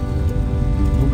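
Rain falls on a rainy day in Chuuk, a steady, loud, dense patter with no break across the short stretch.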